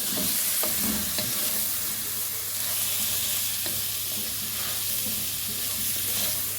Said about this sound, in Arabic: هسيبها بقى تتشوح